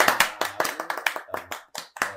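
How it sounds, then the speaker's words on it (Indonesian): A small audience claps for a community of young puppeteers from Yogyakarta: sparse, distinct hand claps at close range, irregular and separated, with brief gaps between them. "Tepuk tangan untuk teman-teman."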